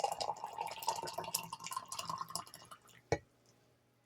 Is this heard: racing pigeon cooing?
no